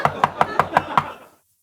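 Six quick, evenly spaced knocks on a door, loud and close, with a short ringing decay after the last rap.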